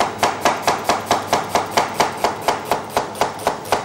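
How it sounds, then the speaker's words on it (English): Knife slicing through an onion on a cutting board, sixteen crisp, evenly spaced chops in a quick steady rhythm, close and loud with no talking. "Get a knife and just slice away."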